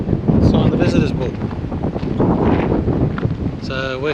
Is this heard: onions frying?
no